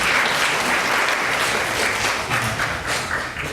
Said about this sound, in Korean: 1번 발표자부터 박수로 부탁드릴게요